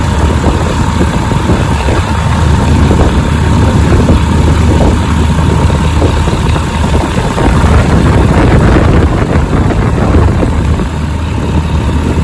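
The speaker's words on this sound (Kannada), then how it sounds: "ಎವಿ ಗಾಳಿ ಐತೆ ಗುರು" Strong wind sweeps across an airfield before a small plane flight, a loud, continuous roaring buffet that fills the whole stretch, with no speech.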